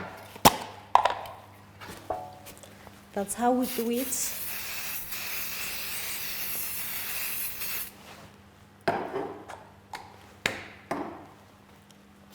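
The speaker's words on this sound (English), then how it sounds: "this is my non-stick spray. I'm going to spray my baking tray with it." Non-stick cooking spray hissing onto a baking tray in a kitchen during biscuit preparation, a steady broadband spray lasting several seconds after a short burst of clattering, with a person speaking briefly at the end over a few sharp knocks.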